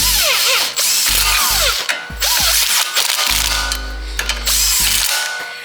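A ratchet or power tool snugs up bolts during a clutch install on a 2008 Honda Civic Si, with loud close bursts of rapid clicking and whirring spin-ups.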